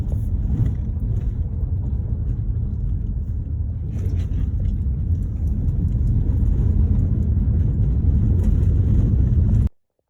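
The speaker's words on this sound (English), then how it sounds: "Big grinding noise you hear is my car" A steady, loud low rumble and grinding of car tires rolling over gravel near a coal mining area, with wind buffeting, continuing for about ten seconds before cutting off abruptly.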